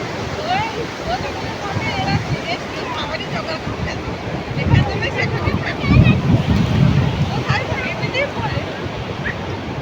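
Sea waves wash onto the beach under gusty wind buffeting the microphone, a continuous rushing roar that swells louder midway, with faint voices in the background.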